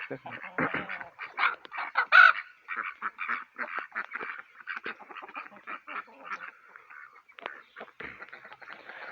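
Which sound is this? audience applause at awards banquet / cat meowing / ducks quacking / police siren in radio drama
ducks quacking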